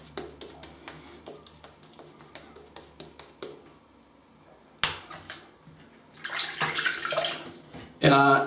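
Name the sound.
water running to wet a shaving brush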